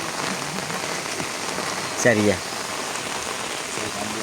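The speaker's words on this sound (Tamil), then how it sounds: "சுதுமலை அம்மன் கோயிலில் அடை மழை பெய்து கொண்டு இருக்கின்ற காணொலியை பார்த்து கொண்டு இருக்கிறீர்கள்." Steady rain patters down on surfaces, a dense continuous hiss throughout, with a brief spoken word partway through.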